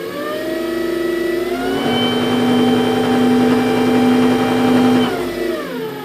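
New wood turning lathe switched to its high speed range, its motor whining up to a loud steady high-pitched hum, holding for several seconds, then starting to spin down, with no voices.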